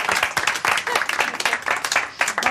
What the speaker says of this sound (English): I've never had the clap from them.